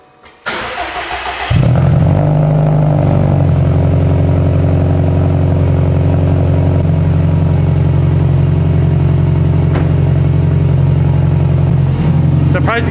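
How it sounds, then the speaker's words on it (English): A heavily modified Subaru STI with dual fuel pumps cranks briefly, catches on the first try and settles into a loud, steady, rumbling idle close by. "let's fire it up and see if she'll run"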